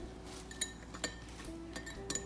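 A spoon stirs a sugar and water solution in a glass, with light, scattered clinks against the glass over about two seconds, soft and close, with no talking.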